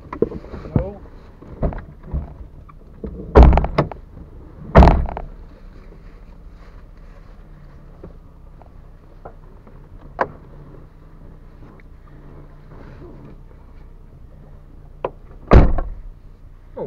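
A truck door at Turkey Bay slams shut with several heavy thuds, close and loud. Scattered knocks and a background murmur sit between the slams.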